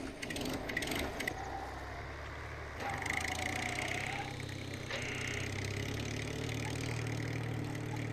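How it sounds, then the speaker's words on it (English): A tractor engine idles in the video game Total Overdose, a steady low mechanical rumble with some rattling, running continuously and fairly near, with no talk over it. "Back on the tractor."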